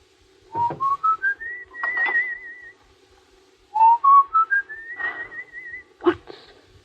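Someone whistles a short rising tune twice, each phrase climbing step by step into a held, wavering note, with a brief thump at the end.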